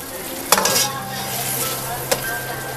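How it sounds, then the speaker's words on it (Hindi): Chicken being stirred and fried with spices in a hot pan for shimla qeema, a steady sizzle with two sharp utensil scrapes against the pan. "चिकन को अच्छे तरीके से भूनना है।"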